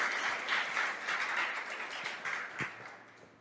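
A church congregation claps together in a brisk, moderately loud burst of applause, rippling unevenly and fading slightly, with no speech over it.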